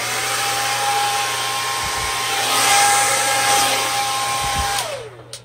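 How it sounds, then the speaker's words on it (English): Hair dryer blowing over a Dutch pour of white and pink acrylic paint on a spinner, a loud steady whooshing motor hum with a faint tonal whine, running continuously before cutting off near the end. "turn on the hairdryer."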